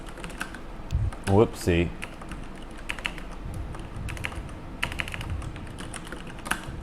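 Typing on a Thai computer keyboard during a Dota 2 esports tournament broadcast, a quick patter of close key clicks in short bursts while someone speaks briefly.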